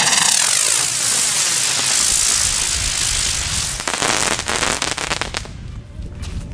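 Rapid crackling bursts of New Year's Eve fireworks fizz and pop in a dense barrage, close and loud, thinning into scattered bangs.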